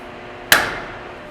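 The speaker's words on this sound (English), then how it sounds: "I'm going to give that a whack with a steel hammer." A steel hammer strikes a piece of steel once, a sharp, loud metallic clang that rings briefly and decays over about half a second.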